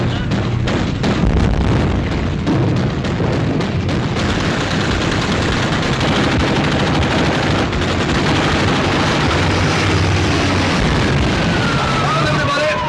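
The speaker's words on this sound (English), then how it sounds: "Open fire! Shoot!" Naval gunfire in a 1942 war film, a dense loud barrage of blasts and rapid firing roaring continuously with shouted voices mixed in.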